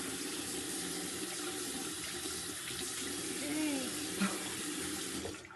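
Tap water runs steadily into a sink for hand washing, a continuous close splashing flow with no talk over it.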